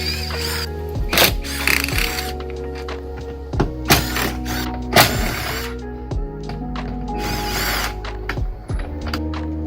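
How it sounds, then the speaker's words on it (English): Bolts on the sunshade mount of a vehicle being removed with a power tool, loud, with repeated bursts of whirring and metallic clunks and thunks close by. "Now I just need to uninstall these bolts on both sides."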